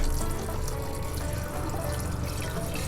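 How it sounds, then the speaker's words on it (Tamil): Water pours steadily into a pressure cooker holding 300 grams of basmati rice, about 450 ml added in one continuous, close splashing stream with no talking. "இப்போது இதுக்கு தேவையான அளவு தண்ணியை சேர்த்துக்கலாம்."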